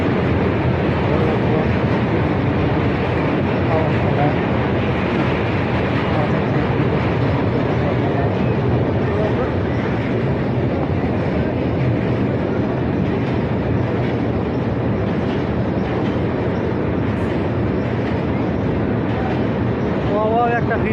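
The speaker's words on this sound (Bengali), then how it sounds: "তো এদিকে যে ট্রেনটা আছে" A train rolls past overhead near a picnic spot beneath a railway bridge, a loud continuous rumble with rhythmic clickety-clack of wheels on track lasting the whole stretch, with people talking faintly underneath.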